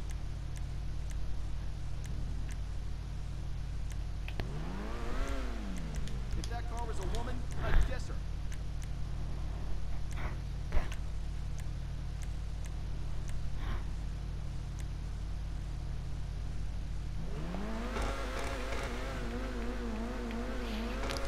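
A Cheval Taipan supercar in GTA 5 Online, its engine revving up in two rising sweeps with a turbo whine, pulling hard and then easing off, over a steady low drone while someone speaks.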